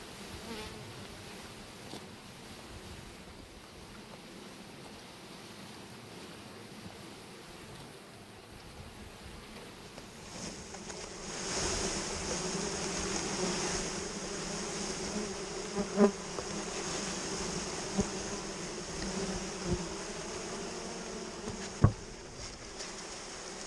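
Dense, steady buzzing of a swarm of honey bees being shaken from a package into a hive, swelling louder partway through, with a few sharp knocks and taps over the continuous drone.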